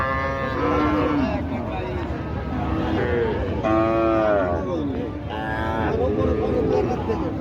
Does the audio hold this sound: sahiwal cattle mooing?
yes